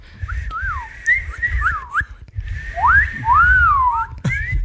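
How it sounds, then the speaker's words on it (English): Several people whistle in short, wavering rising and falling tones, a bit uneven, with low rumbling noise underneath. "Are we all bad at whistling?"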